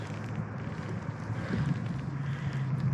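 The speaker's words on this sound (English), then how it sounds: "it's windy, it's chilly" Wind rushes and buffets continuously against the microphone on a chilly, overcast day, a low rumbling roar with no voices.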